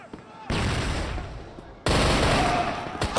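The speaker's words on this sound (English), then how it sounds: "now just spray down here with the gun" Gun spraying in the Crossfire video game during a tournament quarterfinal, two long, loud sustained bursts of rapid fire separated by a short pause.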